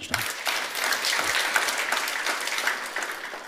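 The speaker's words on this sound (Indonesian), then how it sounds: "Kita beri tepuk tangan." A congregation applauds during an Indonesian church sermon, a dense, steady wash of many hands clapping at moderate volume for a few seconds with no voices over it.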